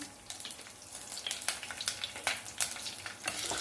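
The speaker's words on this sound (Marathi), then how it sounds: "तडक्यासाठी लाल मिरची टाकू कढीपत्ता टाकू काटून घेतलेल्या दोन मिरच्या टाकून" Red chillies, curry leaves and two slit green chillies sizzling in tempering oil for a Gujarati dal vada, a close crackling spatter with irregular pops and bursts, moderately quiet and without talk.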